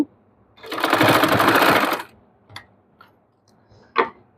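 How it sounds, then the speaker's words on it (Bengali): A sewing machine runs a loud stitching burst of about a second and a half while sewing lace along a dress neckline, then a few short ticks and clicks follow. "লেসের উপর দিয়ে আমি সেলাই দিয়ে নিচ্ছি"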